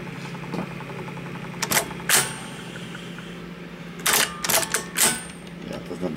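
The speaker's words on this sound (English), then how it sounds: "This is slow to start the motor." A Sony TC-366 reel-to-reel tape player whose motor is slow to start gives a low steady hum, broken by scattered mechanical clicks and clunks from the transport, some close together.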